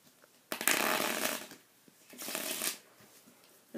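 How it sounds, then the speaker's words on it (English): A deck of playing cards is riffle-shuffled twice, each a rapid fluttering burst of about a second, close and crisp, separated by a brief pause. "Give the cards another shuffle."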